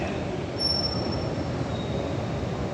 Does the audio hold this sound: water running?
no